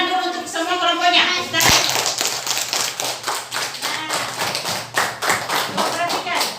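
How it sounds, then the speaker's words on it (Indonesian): Classroom applause for all the student groups, a burst of rapid hand clapping that starts abruptly and continues steadily, close and fairly loud, with children's voices mixed in. "Beri tepuk tangan dulu untuk semua kelompoknya."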